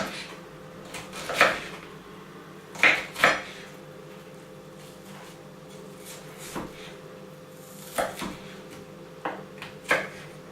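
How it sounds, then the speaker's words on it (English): A knife cuts an onion into small pieces on a cutting board while beef giuvech is being made. Scattered sharp knocks of the blade hitting the board ring out close by, coming in irregular clusters over a quiet kitchen background. "So just cut it in small pieces like that"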